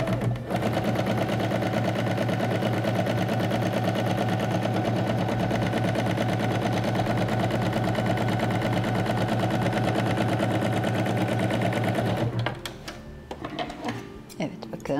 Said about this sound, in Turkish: Zikzak dikişi alıyoruz.